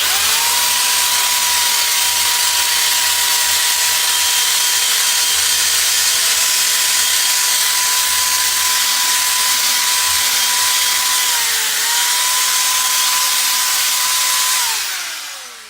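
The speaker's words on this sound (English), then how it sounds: "I bet with that wire wheel on the drill, that thing will come right up now." A drill fitted with a wire wheel runs continuously at a steady high pitch, scrubbing the red liner from a metal drum smoker with a harsh, broadband rasp, briefly dipping once before spinning down at the end.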